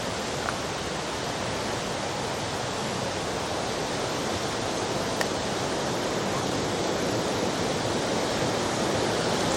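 Rushing water roars steadily, a dense continuous wash of noise from fast rapids on the River Falloch in Scotland, loud and unchanging throughout.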